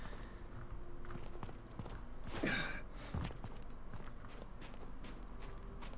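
Horse hooves clip-clopping in Mount & Blade 2: Bannerlord, steady rapid hoofbeats over ambient game noise, with a breathy gasp-like sound in the middle.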